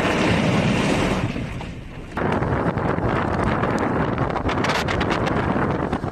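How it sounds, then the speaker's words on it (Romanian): Violent storm wind from an Atlantic cyclone, Storm Diana, gusts up to 150 km/h, buffeting the microphone in a loud roaring rush that dips briefly and then surges back hard. "a venit la pachet cu rafale violente de vânt de peste 150 de km pe oră"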